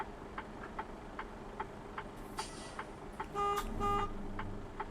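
The Detroit diesel engine of a Freightliner Cascadia truck in a driving simulator rumbles faintly and steadily while maneuvering, with a regular soft ticking and a brief horn toot partway through.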